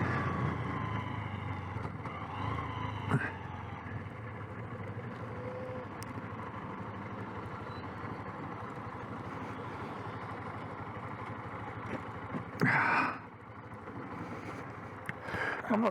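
A motorcycle engine runs steadily at close range while riding around town, a continuous low hum and rumble with a brief louder rev near the end.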